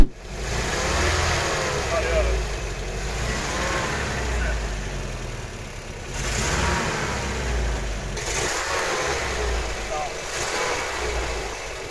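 A car with a suspected blown head gasket being driven home, its mid-pitched engine droning steadily with a few rises in revs, close and continuous, with road and cabin noise mixed in.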